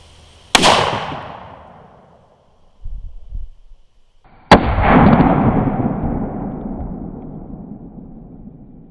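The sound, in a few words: Colt 1847 Walker black powder revolver firing a conical bullet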